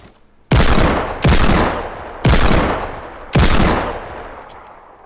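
Four loud, sharp Desert Eagle pistol shots in Fortnite, spaced irregularly over a few seconds, each with a bright crack and a long decaying tail.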